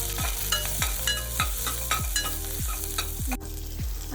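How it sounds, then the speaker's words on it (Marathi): Crushed garlic sizzles in hot oil while a spoon stirs it around the pan with regular, rhythmic scraping strokes about twice a second, close and clear. "हे जरा परतून घेऊया।"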